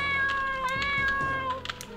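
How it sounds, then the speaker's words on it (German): A cat meows in the video game Vampires Dawn, a loud, drawn-out tonal meow followed by shorter bursts and clicks, heard close with no speech over it. "meine Katze Pinky murrt"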